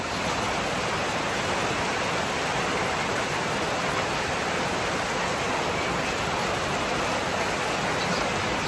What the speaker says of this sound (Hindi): और ये बारिश शुरू हो गई।